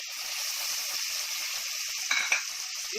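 Okra with chilli pieces and tomato frying in a pan for Konkani-style bhindi with prawns, a steady soft sizzle with a couple of brief stirring scrapes near the end, no voice.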